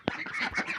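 Several ducks quack close by outdoors on a sunny day after rain, a dense run of nasal calls lasting under a second with no talk.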